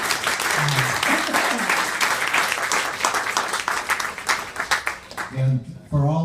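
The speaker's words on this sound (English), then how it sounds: "Give them a round of applause." Audience applause for legislators at a policy gathering, dense sustained clapping for about five seconds that tapers off as a voice begins speaking near the end.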